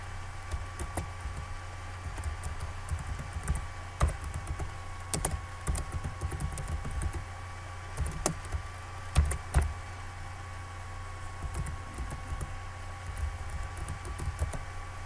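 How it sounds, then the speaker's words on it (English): Typing on a computer keyboard while entering a search for post-secondary architecture teachers, a steady run of soft, close keystrokes and occasional sharper key taps over a low constant hum, with no talking. "what I'm going to do is go ahead and type in architecture, teachers, post-secondary."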